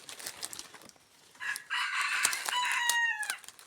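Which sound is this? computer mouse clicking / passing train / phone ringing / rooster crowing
rooster crowing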